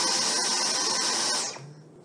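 A Dyson Omni-glide vacuum cleaner laid completely flat runs with a steady, loud motor whine and airflow hiss, then switches off and winds down to near silence over the last half second.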